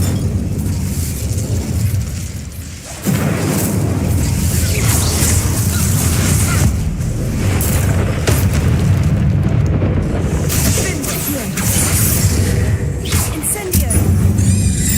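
Incendio fire spells blasting in Hogwarts Legacy, a loud, sustained roar of booming fiery bursts with a sharp break early on, and voices speaking briefly over it.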